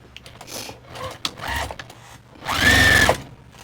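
A sewing machine stitches a quilt-as-you-go scrappy tote bag in short start-stop bursts, then one longer, louder run of rapid stitching close by.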